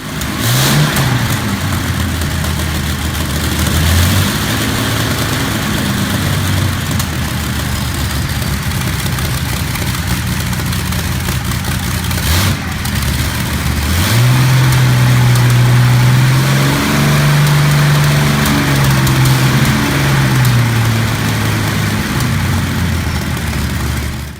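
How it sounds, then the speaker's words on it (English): A large old 2,400-horsepower Alco engine turns over, settles into a deep idle, then revs up in thunderous surges toward full speed, loud and close throughout, with no talking. "comes alive with thunderous bursts, gradually climbing to full speed"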